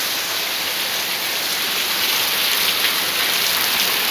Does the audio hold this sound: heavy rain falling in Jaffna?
yes